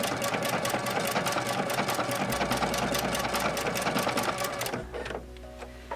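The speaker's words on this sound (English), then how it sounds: "And then I sew again until the machine stops." A sewing machine runs a double ribbon stitch on fabric with a fast, even, close mechanical chatter that slows and stops near the end, leaving a low motor hum.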